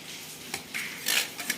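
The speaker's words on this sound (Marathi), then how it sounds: "याच्यामध्येच आपल्याला आता दोन चमचे फक्त बेसन पीठ टाकायचं आहे आणि लगे याच्यामध्येच फेटून घ्यायचे" Gram flour and turmeric being whisked in a pot, heard as a soft scraping stir punctuated by several close, bright metallic clinks of the utensil against the pot, with no talk.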